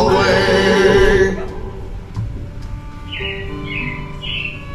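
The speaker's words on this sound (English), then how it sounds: "It looks like the robins are getting ready to celebrate Valentine's Day today." Robins chirp in the animatronic Carousel of Progress show at Magic Kingdom's Tomorrowland, Walt Disney World, a few short high whistled calls after a loud musical passage fades, with faint show sounds underneath.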